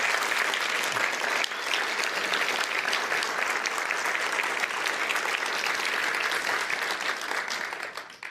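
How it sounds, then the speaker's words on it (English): Dense, sustained applause from a large audience after a talk, loud and continuous for several seconds before tapering off at the end. "Let's give Leah one more round of applause"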